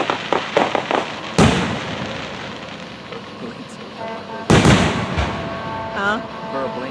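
An Independence Day fireworks display in Vian, Oklahoma: two loud, close booms followed by crackling and sputtering bursts, with people talking and exclaiming nearby.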